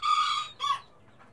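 A rescued white-breasted waterhen (dahuk) chick gives two short, bright, high calls close by, the first longer than the second, then falls quiet.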